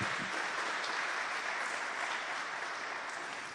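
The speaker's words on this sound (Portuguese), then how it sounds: "Pode aplaudir mais uma vez." A church congregation applauds in a steady, dense wash of clapping that holds evenly throughout and tapers only slightly at the close.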